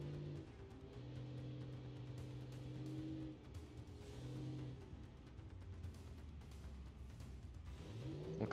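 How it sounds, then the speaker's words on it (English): A diesel-powered monster truck in BeamNG Drive runs its engine through the exhaust, giving a sustained droning rumble that dips and surges as the revs change, fairly loud and continuous with no talk over it. "Showing off that exhaust there with that Deesl powered truck."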